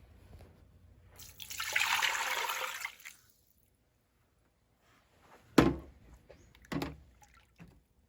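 Water is poured and swished over freshly churned butter for a second rinse, a rushing pour of about two seconds, then silence and a few sharp splashy knocks and drips.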